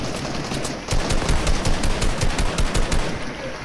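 Automatic weapon fire in a Fortnite match: a rapid burst of evenly spaced shots rattles for about two seconds at close range after a brief quieter lead-in, with no talk over it.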